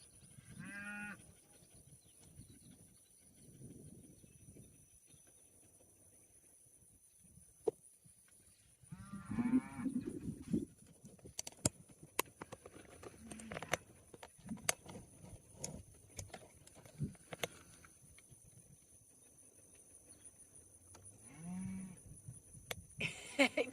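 A herd of cows grazing in a June hay field moos several times, some calls near and loud and others farther off, spread over a quiet pasture with light rustling in between.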